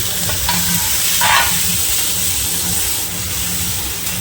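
Tomato and green chillies hit hot oil with fried garlic for a tengra fish curry, giving a loud continuous sizzle up close with a brief burst of stirring near the start.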